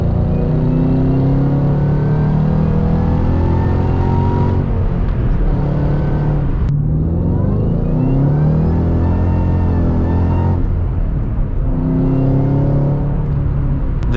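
A 2014 Shelby GT500 with its supercharger accelerates hard from inside the cabin. The loud, steady engine roar climbs through the revs in several pulls, broken by brief dips at the gear changes.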